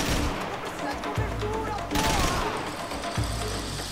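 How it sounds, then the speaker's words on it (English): Gunfire in the video game Max Payne 3, with loud, dense bursts of shots and booming impacts filling the whole stretch under a busy, continuous game soundscape. "Who the hell is shooting at me?"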